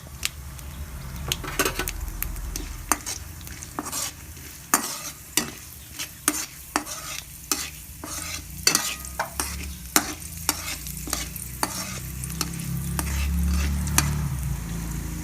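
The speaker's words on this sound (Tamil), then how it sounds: "எண்ணெய் சூடானதுக்கப்புறம் கொஞ்சம் கடுகு, உளுத்தம்பருப்பு, கொஞ்சம் கடலைப்பருப்பு" Mustard seeds, urad dal and chana dal sizzling in hot oil for a pumpkin and cowpea dish, with a steady crackle under frequent sharp spoon scrapes and taps against the pan, close and busy.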